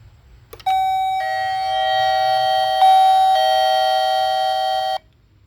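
An electronic intercom doorbell chime rings loud and steady for several seconds, shifting tone a few times before cutting off.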